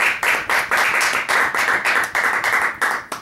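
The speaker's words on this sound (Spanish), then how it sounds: "un fuerte aplauso por favor" Audience applause at an evening talk in a shop venue, a modest group of clappers whose claps fall in a steady regular rhythm, close and fairly loud for a few seconds.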